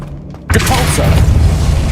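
Depulso spell cast in Hogwarts Legacy: after half a second of quiet, a single loud booming blast erupts and rolls on as a heavy rumbling wash for the rest of the moment.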